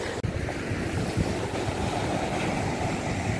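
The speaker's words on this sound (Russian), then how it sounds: "Такие волны красивые сегодня." Sea waves wash steadily onto the shore with a loud, continuous surf roar and some wind rumble on the microphone, with no voices over it.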